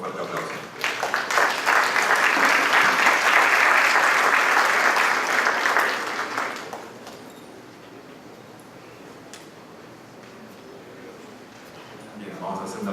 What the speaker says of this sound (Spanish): Recibámoslo, por favor, con un fuerte aplauso.